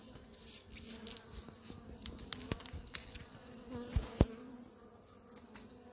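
Bees buzzing around an open beehive during an inspection, a dense insect hum with individual bees droning close past, layered with faint handling clicks and scrapes.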